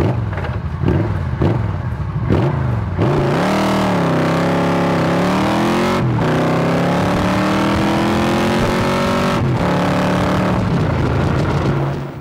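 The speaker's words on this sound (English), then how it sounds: "I'll give her a quick blast up to about 100 kilometers an hour." A 1996 Yamaha XVZ 1300 V4 cruiser motorcycle, 320 kg, accelerates hard to about 100 km/h, engine climbing through several gear changes with brief dips between pulls, loud and close throughout.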